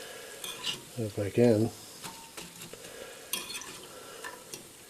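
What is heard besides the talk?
dandelion flowers deep frying in oil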